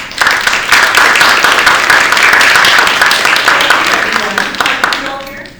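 Loud, sustained applause from a crowd, steady clapping throughout that gradually thins out toward the end.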